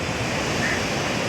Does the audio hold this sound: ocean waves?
yes